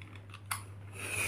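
Scissors or a blade snipping through thin board material along a straight line for a diorama corner, a single faint sharp cut amid quiet room noise and low hum.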